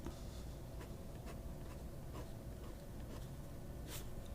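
A well-tuned, fairly wet medium-nib fountain pen writes on paper with soft, scratchy strokes and slight feedback. The strokes are faint and come in irregular bursts over steady background hiss.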